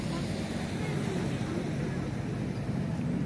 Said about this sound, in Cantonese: 呢個船咧就埋岸啦，埋嚟啦！